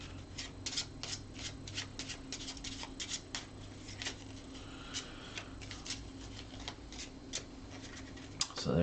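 A deck of playing cards being shuffled during a tabletop card game, a quick run of crisp riffling flicks close by, with no talking.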